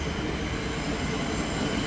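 A Melbourne commuter train on the Craigieburn line arrives at a station, rumbling steadily close by, a continuous loud roar of wheels on rails with faint metallic squeal, no voices.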